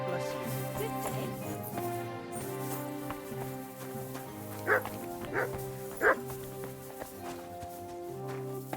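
A dog in the video game Kingdom Come: Deliverance 2 gives three short, sharp barks spaced about a second apart, rising briefly above steady background music.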